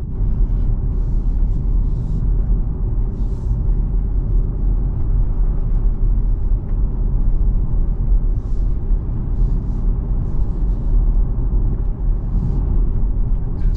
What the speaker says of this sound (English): I'm probably running in electric mode right now, so it's not making any noise, and just like you get a bit of road noise from the tires maybe